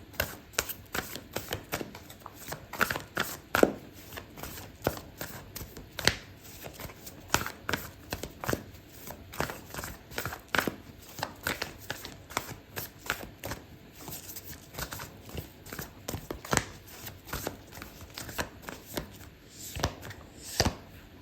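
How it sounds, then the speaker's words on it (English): Oracle cards shuffled by hand for a tarot reading, a steady run of soft, close papery riffles and taps lasting throughout with no voice over them. "I'm going to pull out an oracle card for you, Aries."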